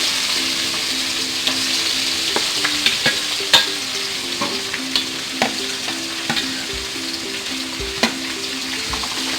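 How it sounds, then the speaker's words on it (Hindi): Onions frying and being stirred in a pan for chana dal fry, with a steady close sizzle and a string of light scraping stirs and soft clinks throughout, no voices. "चलिए प्याज को थोड़ा सा भूनेंगे।"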